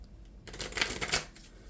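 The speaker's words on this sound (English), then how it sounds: "we're going to shuffle the deck" A deck of Marvel Champions cards is shuffled close up after a brief quiet moment, giving a quick, crisp riffling flutter that lasts about a second and then settles into a few softer card taps.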